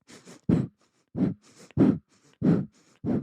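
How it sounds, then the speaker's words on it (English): Close, repeated breathing cycles: paired quick sniffing inhales through the nose followed by a sharp, forceful breath out, several times in steady rhythm. "a quick double inhale through my nose with a kind of a forceful, quick exhale out my mouth"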